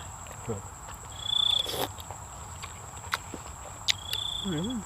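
Crickets chirp in a faint, steady high-pitched trill, with occasional soft knocks and rustles nearby.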